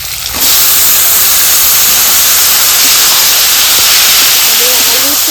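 Chopped potatoes are dropped into hot oil with fried spices and sizzle at once, a loud, steady hiss that rises abruptly and keeps going up close, with faint clinks from a utensil near the end.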